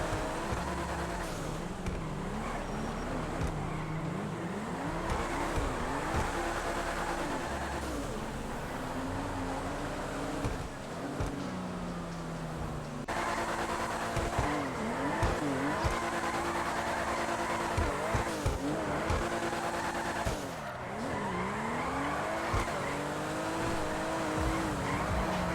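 Car drifting in GTA Online, the engine revving and surging while tires squeal and skid through repeated slides, loud and continuous with no talk.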